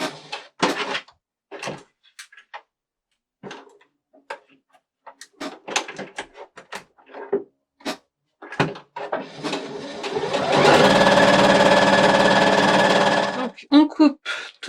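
A sewing machine stitches a decorative cushion about 1 cm from the fabric edge, running in a steady, close whir for about three seconds near the end after scattered handling clicks and intermittent speech.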